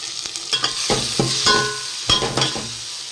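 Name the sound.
tomatoes simmering in a pan for egg pulao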